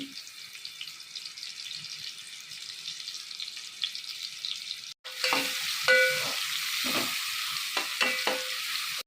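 Chopped onions and cumin seeds hit hot oil in a pan. A quiet hiss suddenly swells into a loud, bubbling sizzle with stirring scrapes partway through, and no voices.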